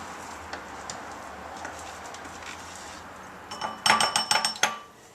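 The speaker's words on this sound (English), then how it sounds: "I'm going to just go ahead and dump out all of the pesto that I've made into a bowl" Basil pesto scraped from a blender into a bowl, with faint soft scraping and then a burst of sharp clinks and knocks from a utensil against the container near the end.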